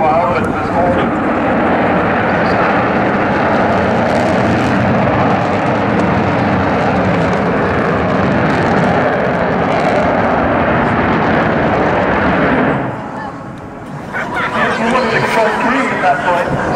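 Avro Vulcan XH558 bomber, powered by four jet engines each rated at 16,400 pounds of static thrust, flying past at an airshow, a loud continuous roar that holds steady then dips briefly near the end before swelling again.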